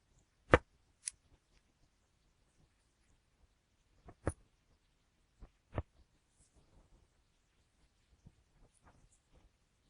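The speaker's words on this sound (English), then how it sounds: "these ones should be easier to cut now. Scissors in, pull them tight." A handful of sharp, isolated snips and clicks of scissors cutting embroidery thread loops, widely spaced in near silence.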